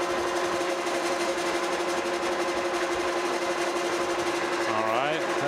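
A metal lathe turns a new ratchet pin for a FAMCO arbor press, cutting straight across the end with a steady, close mechanical drone and tonal whine, ending in a brief rising squeal as the cut finishes.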